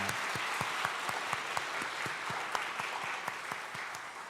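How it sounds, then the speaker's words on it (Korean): A church congregation applauds a combined choir at a year-end worship service, a sustained, even roar of clapping from many people with some individual claps standing out. "우리의 사랑과 격려의 박수 한번 하도록"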